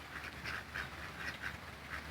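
Ducks quacking outdoors on a rainy farm, a quiet run of repeated nasal quacks at a fairly regular pace over soft background noise, with no talking.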